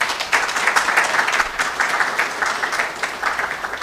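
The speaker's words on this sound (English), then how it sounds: "if you could stand for a round of applause." An audience at a launch event on stopping noncommunicable diseases in West Africa breaks into steady, loud applause that carries on for several seconds, with many hands clapping at once.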